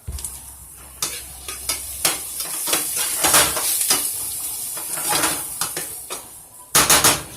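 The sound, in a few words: meat and seasoning sizzling in a pan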